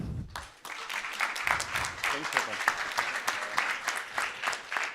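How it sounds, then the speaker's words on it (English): A conference audience breaks into applause for a speaker, a dense wash of many hands clapping that swells quickly after a brief opening sound and continues steadily to the end. "you are welcome to give Frederick a huge applause"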